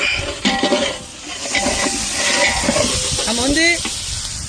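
Tomatoes and onions frying in a pot for chicken biryani, with a soft sizzle and hiss under scraping stirring strokes and light clinks of a utensil on metal, while a voice talks over part of it.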